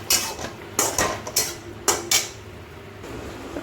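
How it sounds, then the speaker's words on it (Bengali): A utensil stirs ground bottle gourd leaf paste in a pan, making about six sharp metallic scrapes and knocks close up, with pauses between them, then fading to a quiet stretch. "ভালো করে এটা নেড়ে নিচ্ছি, যতক্ষণ না জল শুকাবে ততক্ষণ নেড়ে নিতে হবে।"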